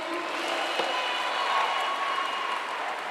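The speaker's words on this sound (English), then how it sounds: "let's give them a round of applause again" Crowd applause fills an outdoor South African multi-party voter registration event, a steady, dense wash of clapping and cheering that holds at an even level throughout.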